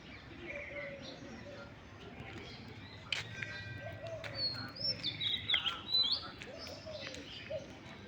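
A sparrow chirps atop a temple flag, with quick bright tweets growing busier and closer toward the end over a soft outdoor background with faint voices.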